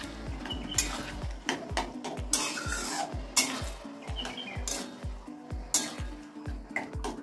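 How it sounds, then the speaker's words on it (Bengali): Taro leaves (kochu shak) sauté in oil with a crackling sizzle and a rapid, regular run of spatula scrapes and knocks against the pan, close and busy, with no talking. "যাই হোক তেলে কষুক বন্ধুরা।"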